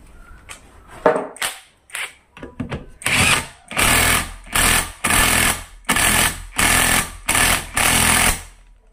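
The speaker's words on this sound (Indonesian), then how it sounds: "Sekarang kita akan pasang untuk baut roda gila." A power impact tool drives in the flywheel bolt on a Yamaha outboard engine in loud, repeated bursts of about half a second each, close and harsh, after a few shorter opening rattles.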